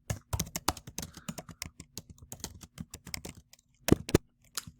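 Typing on a computer keyboard while a Latin lecture title is entered: quiet, close, irregular bursts of key clicks with brief pauses and a few sharper taps near the end, no talking.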